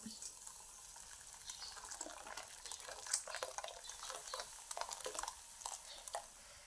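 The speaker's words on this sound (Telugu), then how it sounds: "అది ఇప్పుడు వేడి నీళ్ళు వేసుకొని నానబెట్టుకుందాము" Hot water being poured over soy chunks in a kitchen to soak them: quiet splashing and pouring with light stirring and clinking, fairly faint and close, lasting several seconds.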